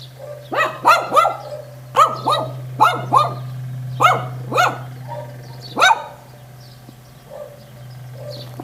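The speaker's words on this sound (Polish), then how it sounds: "Przyszedł i szczeka na mnie." A dog barks repeatedly at someone along the Camino Portugués pilgrimage route, about ten sharp barks in uneven bursts, some doubled, close and loud over a steady low hum, then quiet.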